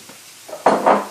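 Black Forest ham drops into a low-heat skillet with tender onions and peppers, giving a short clatter and then a soft, close sizzle lasting about half a second.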